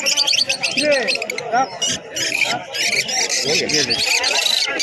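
Lovebirds in a crowded pigeon market at Birnagar, a dense, loud mass of overlapping chirps and rapid tweets close by, layered over a hubbub of people talking.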